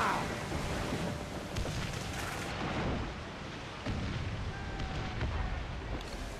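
Ship cannons fire in a naval battle in Assassin's Creed IV Black Flag, heavy booming blasts rolling over steady wind and sea noise, with a couple of distinct impacts spread across the stretch.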